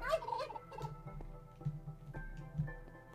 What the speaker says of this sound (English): I hear a dying chicken every time I enter this room.